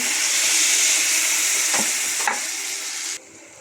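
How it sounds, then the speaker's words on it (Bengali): Hot water poured into lentils frying in a pan sets off a loud, close, steady sizzle with a couple of stirring scrapes. The sizzle drops off abruptly near the end. "একটুখানি গরম পানি অ্যাড করে দিচ্ছি"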